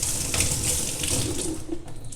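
Whole pecans in a fine mesh strainer are rinsed under a running tap, giving a steady, close splash of water that continues without a break.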